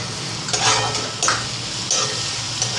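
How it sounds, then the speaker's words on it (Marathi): Green chillies sauté in hot oil in a pan for a chutney, a steady close sizzle with occasional stirring scrapes rising above it, no voices. "आता मिरची पण ह्याच्यात परतून घ्यायची आहे"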